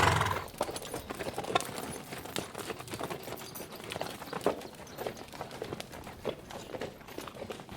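Horse hooves clip-clopping steadily down a mountain trail at night, a continuous uneven patter of close steps over rough ground with no talking.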